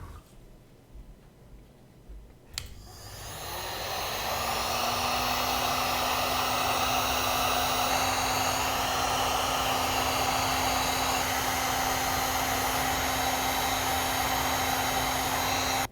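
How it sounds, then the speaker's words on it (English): A heat gun melts fat: after a click it starts and settles into a steady, loud blowing hum with a constant whine, running alone and unbroken until the end. "just use the heat gun to melt it to create a fluid fat"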